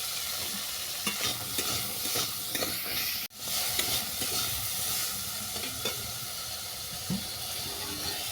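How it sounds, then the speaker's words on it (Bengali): Raw tamarind fries in a little oil with salt and turmeric, sizzling loudly and steadily while being stirred, with one brief cut partway through. "তেঁতুলটা আমার ভাজা হয়ে গেছে"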